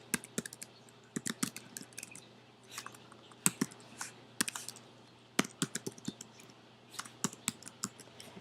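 Steady typing on a computer keyboard while names and an email address are entered into an online testing form: quick bursts of crisp, close key clicks with short pauses, no voices.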